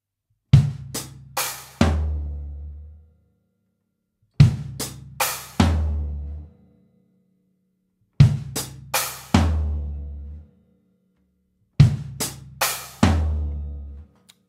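Drum sweep from a stacker cymbal down through the toms to the floor tom, played four times in a row: quick descending hits ending in a deep boomy tom, each run separated by silence, loud and close.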